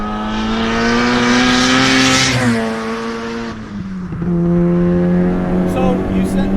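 Turbocharged Honda Del Sol TransTop with a B-series engine drives and accelerates, its exhaust note rising and falling as it revs hard, then easing off before pulling again, loud and close with a voice talking over it.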